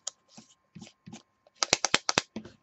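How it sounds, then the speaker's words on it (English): An 18490 IMR battery rattles loose inside a metal vape mod tube, heard as a few soft knocks followed by a quick, louder burst of sharp clicking shakes, close and alone with no talk. "battery's shuffling about in there"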